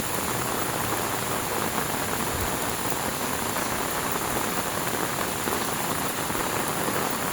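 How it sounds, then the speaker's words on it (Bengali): Steady rain pours down over a lotus pond in Mymensingh, a dense, even hiss of drops with no voices. "বৃষ্টি ভালাই বৃষ্টি পড়তেছে।"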